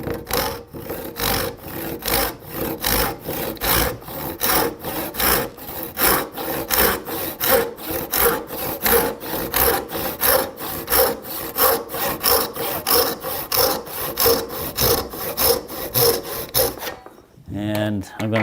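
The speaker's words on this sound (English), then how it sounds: "So I'm going to go ahead and cut down along the side here at 1/4 of an inch." A dovetail saw cuts down into wood with a long run of quick, even back-and-forth strokes, close and crisp, before stopping near the end as a brief clatter follows.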